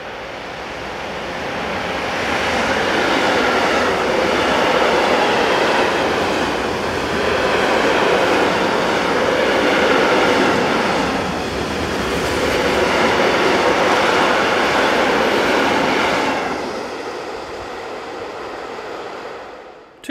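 A freight train led by locomotive 185262 rolls past a crossing at an infrastructure depot, a loud sustained rumble and roar with rhythmic swells of wagons passing close, fading toward the end.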